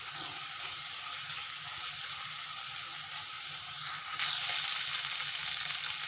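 Chopped ginger, a dozen garlic cloves and two green chillies fry in hot oil, a steady close sizzle that jumps louder near the end as they are stirred.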